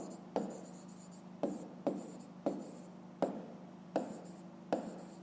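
A pen or pencil writes out a fraction for a fifth-grade maths exercise, with sharp scratchy strokes repeating roughly every half second, close and fairly quiet, with no talking.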